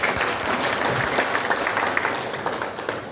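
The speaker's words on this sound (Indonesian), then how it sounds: "Tepuk tangan untuk ibu bapak." An audience applauds at a local government gathering with a regent, a dense steady clapping from many hands that holds for the whole moment and fades slightly at the end, with no speech over it.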